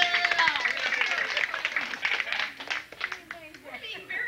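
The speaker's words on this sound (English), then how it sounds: "Let's give her a round of applause." An audience applauds after a folk music performance, with a thick, steady wash of clapping that thins toward the end as voices talk over it.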